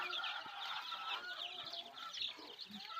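Native chicken chicks on a poultry farm chirp and peep continuously at close range, layered as a busy flock with a few louder calls standing out.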